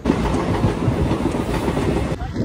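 A DEMU local train enters a station on the Lataguri to Siliguri line with loud clickety-clack wheel rumble close by, then cuts off abruptly near the end.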